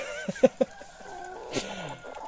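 Chickens cluck nearby in a few short, throaty bursts, followed by a brief hiss and soft background noise.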